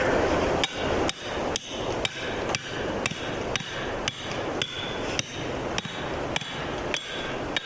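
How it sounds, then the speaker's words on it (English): A ground talon stake is driven into the ground for a raccoon trap with a steady series of about a dozen sharp metallic hammer strikes, evenly spaced and close, with no talk. "We're using our ground talon stake, and we're going to drive that in the ground right here."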